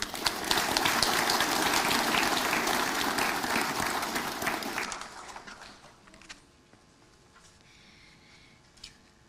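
Dense indoor audience applause for Crown Prince Haakon of Norway, loud and sustained for about five seconds before fading into scattered claps and room noise.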